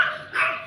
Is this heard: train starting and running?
no